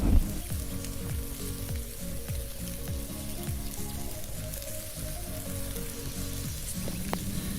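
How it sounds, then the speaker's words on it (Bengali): Fried potatoes and peas stirred into a sizzling spice masala for a vegetarian cauliflower curry, a continuous close frying hiss broken by repeated scraping strokes of a spoon against the pan. "আমি ভেজে রাখা আলুগুলো দিয়ে দেব। অল্প কিছু মটরশুঁটি দিয়ে মশলার সঙ্গে মিশিয়ে দেব।"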